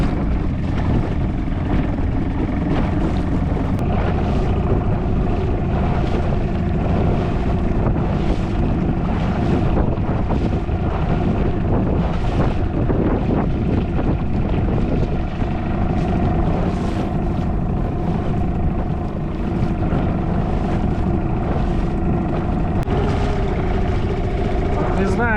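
A Hangkai outboard motor drives a PVC Kitt Boats 330 inflatable through choppy waves, giving a steady loud drone mixed with water slap and heavy wind buffeting on the microphone throughout.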